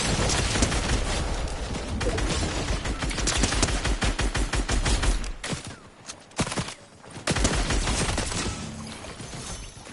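Rapid bursts of gunfire from a Fortnite squads match, dense and loud for several seconds, then a brief lull, a few isolated shots, and another heavy volley near the end.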